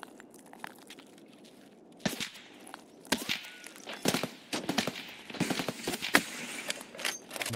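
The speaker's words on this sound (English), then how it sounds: "I have no idea where that shot's coming from." Shots ring out in the Escape from Tarkov shooter, a scattered series of sharp cracks and bursts at irregular intervals, some close and loud, others quicker and clustered toward the end, with footsteps and gear rattle between.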